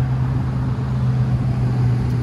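A 2013 Chevy Tahoe PPV engine idles steadily nearby, a continuous low rumble with a strong hum and no voices over it.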